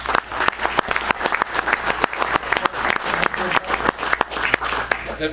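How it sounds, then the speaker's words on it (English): An audience at a wrestling panel discussion breaks into loud, sustained applause, with dense, rhythmic clapping from a nearby crowd lasting throughout. "How about a round of applause for these guys?"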